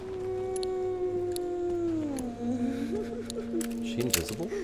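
A dog howls in a long, sustained, mournful tone that slides down in pitch and then wavers into whimpering yelps, loud and close, with faint clicks in the background.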